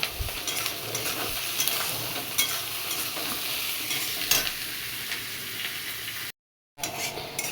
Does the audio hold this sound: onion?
yes